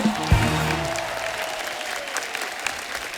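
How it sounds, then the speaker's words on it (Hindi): A studio audience at a comedy talk show gives loud, sustained applause for arriving guests. The clapping stays dense and even after a brief thump at the start. "जोरदार तालियां हो जाए हमारे मेहमानों के लिए।"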